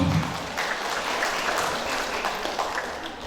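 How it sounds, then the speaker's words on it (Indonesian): Brief, steady audience applause at a kindergarten teachers' workshop, continuous clapping from a seated group throughout. "Beri tepuk tangan lagi"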